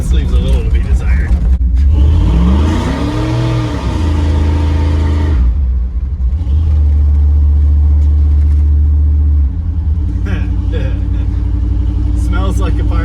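A 1984 Dodge D150 stepside with a swapped Magnum 5.9 engine doing a one-legger burnout, a loud close engine roar that revs up and down and holds a heavy, steady drone before easing off to idle.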